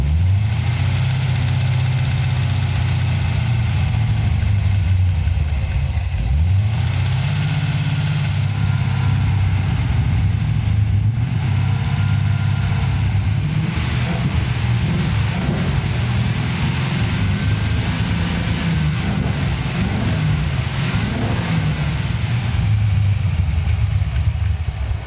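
1972 Corvette with a 383 stroker V8 idling steadily and loudly close by, a deep rumbling drone with slight rhythmic lope and brief dips in pitch, and no voices.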